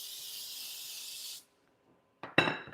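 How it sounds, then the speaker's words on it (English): A steady hiss of cooking spray for over a second, then a pause and a couple of clattering kitchen clicks. "I'm just going to use spray"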